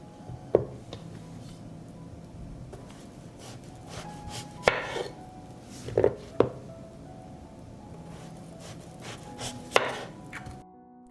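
A knife cuts peeled zucchini into thick rings on a board, giving a handful of sharp, well-spaced thunks against quiet kitchen background.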